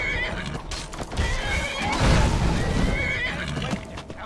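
Shadowmere, a horse in the Skyrim video game, lets out a loud, drawn-out whinny near the listener, with hoof clops and game sounds around it.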